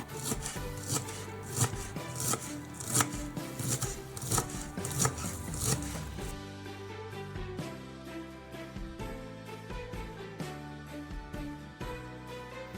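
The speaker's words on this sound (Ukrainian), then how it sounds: "беремо кучечок зеленої цибулі і дрібненько нарізаємо" A knife finely chops green onions rapidly on a cutting board in a quick, steady rhythm, then background music continues after the chopping stops.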